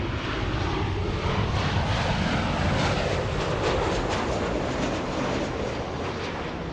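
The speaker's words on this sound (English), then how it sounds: "Let's go for the Alaska 737." An Alaska Airlines Boeing 737 jet producing a dense, loud engine roar that rises slightly in the middle and stays constant, with no other sounds standing out.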